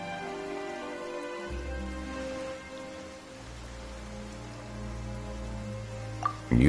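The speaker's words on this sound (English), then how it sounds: "Why is it raining all of a sudden?" Steady rain pours down in the video game Genshin Impact, a dense, continuous hiss of drops on surfaces alongside a low sustained game music drone, with no talk.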